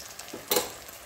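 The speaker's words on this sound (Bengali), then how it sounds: "উচ্ছে দিয়ে আর বেগুন দিয়ে পেঁয়াজ দিয়ে ভাজা করব" Bitter gourd, brinjal and onion frying in fish oil, giving a brief sizzle that flares up halfway and then fades.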